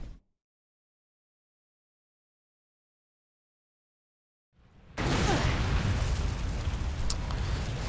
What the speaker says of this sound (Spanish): Explosiones everywhere.